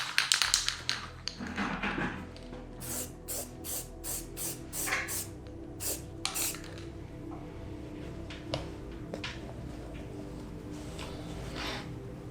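A can of filler primer is shaken and sprayed onto motorcycle plastics, with a series of close, sharp hissing bursts and rattling taps followed by quieter, longer sprays, no talk.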